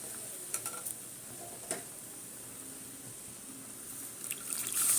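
Milk hisses and sizzles as it is poured into roasting semolina in a pan for halwa, a soft, steady frying hiss with a few light clicks and a brief stronger burst at the end.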